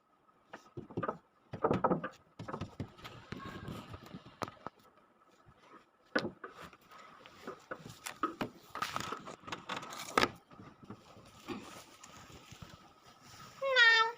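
A cat hiding in a small space under a bed gives a faint, brief meow near the end, amid scattered knocks, shuffling and handling noises with occasional quiet voices.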